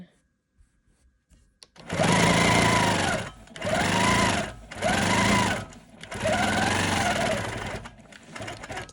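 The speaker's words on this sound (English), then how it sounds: "now we're ready to quilt our skinny kind of cornflower blue strip" A longarm quilting machine stitches fabric in four sustained bursts of fast whirring, separated by short pauses, close and loud.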